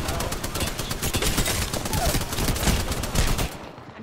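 Dense bursts of gunfire from the video game Apex Legends rattle almost continuously, loud and rapid, before cutting off near the end.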